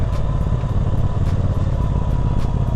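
A 2019 Triumph Speedmaster motorcycle rides along with a steady, loud low engine drone, alone and continuous throughout, with faint wind rush above.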